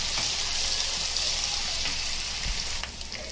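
Onions frying with salt in a pan give off a steady, close sizzle with a continuous crackling hiss and a few brief pops, with no talk over it.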